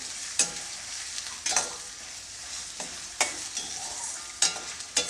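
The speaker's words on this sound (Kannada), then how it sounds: "ಇದನ್ನು ಒಂದೆರಡರಿಂದ ಎರಡರಿಂದ ಮೂರು ನಿಮಿಷ ಚೆನ್ನಾಗಿ ಫ್ರೈ ಮಾಡ್ಕೊಳ್ತೀನಿ ಗ್ಯಾಸನ್ನು ಮೀಡಿಯಮ್ ಫ್ಲೇಮಲ್ಲಿ ಇಟ್ಟಿದ್ದೀನಿ" Onions fry over a medium gas flame while a spoon stirs them in the pan, giving a soft sizzle under sharp scraping strokes that recur every second or so, close and moderately quiet.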